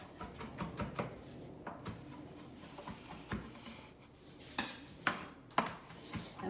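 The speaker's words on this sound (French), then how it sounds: "on hache finement notre belle gousse d'ail" A knife finely chops a garlic clove on a board in a home kitchen. Quick, irregular light taps and clicks come in close bursts, fairly quiet, with no talk.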